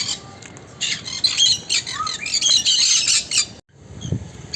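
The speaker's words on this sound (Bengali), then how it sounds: "এখানে কিন্তু দেখতে পাচ্ছেন একটা খুব সুন্দর আফ্রিকান গেরে প্যারট।" An African grey parrot squawks repeatedly at close range, a run of loud harsh calls over about three seconds, a brief pause, then fainter calls.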